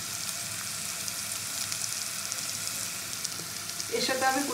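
Crushed ginger and garlic fry with onion in a pan, giving a soft, continuous sizzle throughout, with a sharper clatter near the end.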